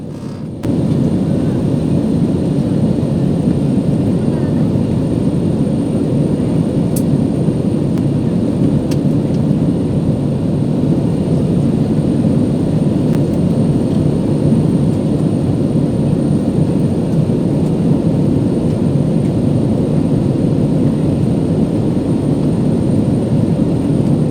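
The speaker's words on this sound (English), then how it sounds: "In this clip, we can see the flight flying in between the clouds, somewhere in between Pune and Kolkata." Inside an Indigo airliner cruising through clouds between Kolkata and Pune, a loud, steady low engine and airflow roar fills the cabin without a break.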